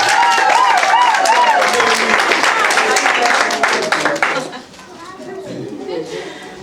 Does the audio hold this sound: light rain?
no